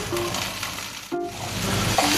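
Loud, close sizzling of food in a hot pan, a continuous crackling hiss with a brief dip and scrape midway before it resumes.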